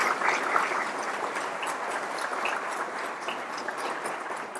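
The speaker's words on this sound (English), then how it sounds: "let's have a round of applause for all of those terrific" Audience applause in a college hall, a steady patter of many hands clapping at moderate distance, fairly faint and sustained with no talk.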